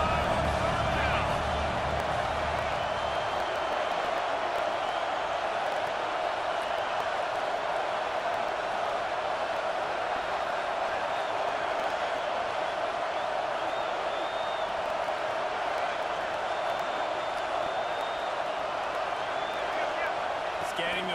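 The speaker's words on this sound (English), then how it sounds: "the Buckeye crowd alive on third down" A stadium crowd at a college football video game, with the Buckeye home fans roaring loudly and without a break on third down beneath an announcer's steady play-by-play.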